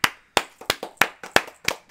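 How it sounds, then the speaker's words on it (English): A handful of people at home clap for a Premier League club, about nine sharp, separate claps in a loose, uneven rhythm, close by and with no talking. "So round of applause to Sheffield, man."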